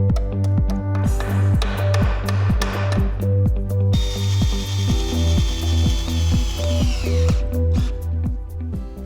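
A power driver rattles in a fast, steady ratcheting rhythm as self-tapping screws are tightened into the metal frame of a modular structure, with a bright metallic whine rising midway through. The sound is loud and close, with no voices.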